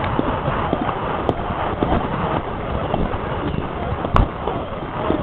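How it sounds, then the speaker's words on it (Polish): Horse hooves clip-clopping in a steady rapid rhythm on a forest outing, close and continuous, with a sharper knock near the end and faint rustling behind. "A taki był umierający koń."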